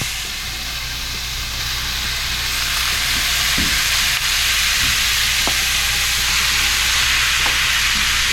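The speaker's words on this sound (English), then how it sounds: "while your meat's browning" Loud, steady sizzling of meat browning in a hot pan, a constant crackling hiss with a few small pops and clinks, no talking.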